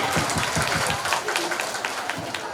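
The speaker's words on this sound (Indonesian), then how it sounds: "Beri tepuk tangan Bapak Ibu sekalian." Applause from the congregation at a church auction and building-blessing celebration for St. Isidorus parish, a dense crowd of clapping hands, loud and sustained, with faint voices mixed in.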